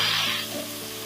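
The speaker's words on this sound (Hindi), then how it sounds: "पोटैटो को हम हल्का सा फ्राई कर लेंगे।" Small cubes of diced potato sizzle steadily in hot oil, a close, continuous frying crackle that eases slightly after a brief louder start.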